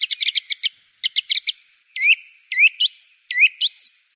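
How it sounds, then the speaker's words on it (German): Garden birds chirp from below a balcony, a quick run of sharp high tweets followed by several rising whistled calls, close and clear with no talking. "Ich führe von meinem Balkon oben runter in letzter Zeit so Zwitscherdialog mit Vögeln im Garten"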